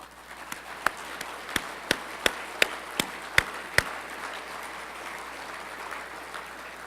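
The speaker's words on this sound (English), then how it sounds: "Please give them a nice round of applause." Audience at the 2014 Missouri Farm Bureau annual meeting applauding, heard as a thin, fairly quiet patter with about ten sharper claps standing out in an uneven rhythm over a low room hum.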